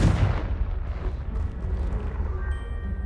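Confringo blasting spell explosion in Hogwarts Legacy: a heavy, booming blast with a rumbling low-end tail that fades under a lingering crackle, loud and close.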